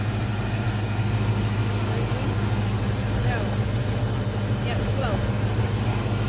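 A 1986 Ford Mustang LX Foxbody engine idles steadily up close, a continuous low rumbling hum with an even tone and no revving throughout.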